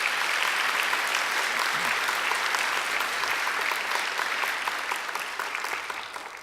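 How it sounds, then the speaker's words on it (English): Sustained applause from a large audience at a Macquarie University graduation ceremony, dense and steady before gradually tapering off toward the end. "I think he deserves another great round of applause."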